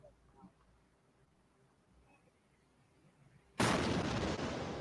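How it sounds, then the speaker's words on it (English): A sudden loud, sustained video game explosion blast erupts after several seconds of quiet, muffled background noise, roaring on to the end. "And boom, explosions."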